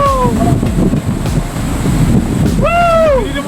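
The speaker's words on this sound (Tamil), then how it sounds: "அருவியில எதிர்பாராத விதமா காட்டாற்று வெள்ளம் வந்துடுச்சு" Waterfall roaring in a sudden flash flood after rain at Agaya Gangai falls in Kollimalai, a steady broadband rush of water with gusty wind noise, while voice-like tones rise briefly near the end.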